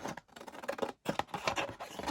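Scissors trimming a sheet of paper for a handmade signature journal, a run of close, crisp snips and rustles with a brief pause partway through.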